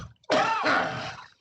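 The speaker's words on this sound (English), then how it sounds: "what a bad moment for a cough." A single cough or throat clear, close and fairly loud, rising sharply and trailing off over about a second in a quiet indoor setting during a radio show interview.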